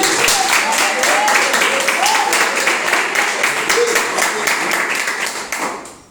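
A church congregation claps for Jesus, steady loud rhythmic clapping filling the room, with some voices mixed in before it tapers off at the end.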